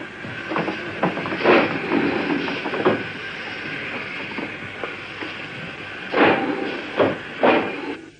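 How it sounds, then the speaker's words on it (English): An old steam locomotive on a preserved British railway line gives off repeated bursts of hissing steam and chuffs, some strong and close, in an uneven rhythm over a constant background hiss. "odd vehicles appeared, old steam engines."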